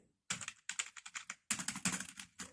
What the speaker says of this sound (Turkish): bir ses çıkartıyor her klavyede olduğu gibi